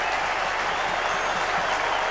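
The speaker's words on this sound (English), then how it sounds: "he gets some warm applause from his home crowd" Home crowd at a 2002 AFL football match between Fremantle and Hawthorn breaks into warm applause, a dense, steady wash of clapping that fills the stadium without pause.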